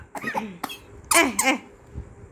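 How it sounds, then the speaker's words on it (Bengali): An adult at home beside a baby lets out a couple of harsh, close coughs in quick succession, with some throat noise and brief voice sounds just before them. "কাশি পেয়ে গেল, কাশি পেয়ে গেল"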